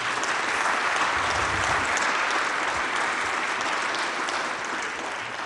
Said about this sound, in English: Please, a round of applause to our excellent panel.